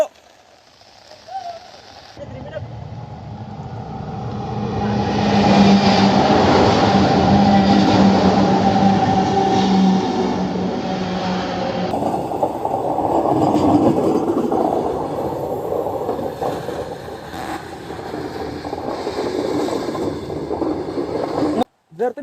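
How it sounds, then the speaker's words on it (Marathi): A train approaches head-on along the tracks, its heavy roar building and holding steady with rattling metallic clatter, while a voice speaks faintly beneath. "आणि तुम्ही पाहू शकता समोरून ट्रेन येते"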